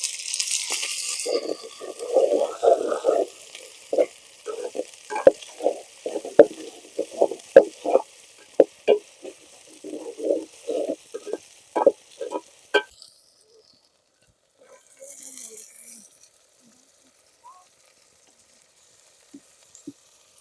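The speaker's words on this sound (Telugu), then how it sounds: "పచ్చిమిర్చి వేసుకొని ఉల్లిపాయలు కొద్దిగా బంగారు రంగు వచ్చే వరకు వేయించుకోవాలి." Onions and green chillies frying in a pan until golden for an Andhra-style crab curry: a run of uneven scrapes, taps and short sizzling bursts for about thirteen seconds, then near silence with only a few faint clicks.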